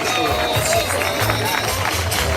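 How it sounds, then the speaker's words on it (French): Audience at a gathering in Beauce, Québec clapping for themselves, a dense crowd applause with cheering voices and steady chatter throughout, loud and close. "Retournez-vous pour vous applaudir vous-même aussi."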